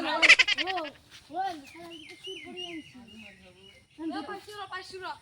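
A goat bleating in a run of wavering, nasal calls, loud and harsh at first, then a series of shorter bleats with a pause before a final cluster.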